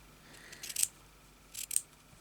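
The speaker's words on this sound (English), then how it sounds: "And then if I cut this off here," Scissors snip off loose thread on a crazy-patchwork boho journal, two quick close cuts about a second apart in an otherwise quiet room.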